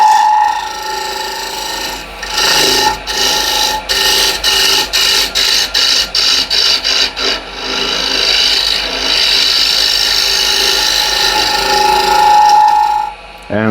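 A wood lathe spins at almost 1600 RPM with slight vibration, giving a steady close whirr broken by a fast series of sharp ticking cuts in the middle.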